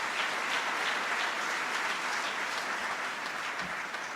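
An audience at the Buffalo mayor's State of the City speech applauds. The dense, steady clapping of a large crowd fills the room at even loudness throughout.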